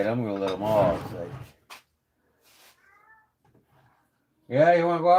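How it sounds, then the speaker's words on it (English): Cats meow and cry indoors, wanting to be let outside, with a long loud meow at the start, faint clinks in the middle and another loud drawn-out meow at the end. "Cats are crying, wanting to go outside."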